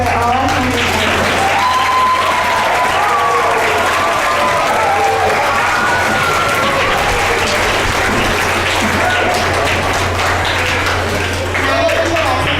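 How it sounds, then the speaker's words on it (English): Sustained, dense applause from a student audience at a school assembly in a room, loud and steady throughout with crowd noise and scattered voices mixed in. "Can we give a big round of applause for all our hundreds of them?"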